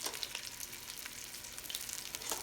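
Oxtails sizzle in hot olive oil and butter over high heat, a dense, steady crackle with bright spitting pops, close and continuous without voices.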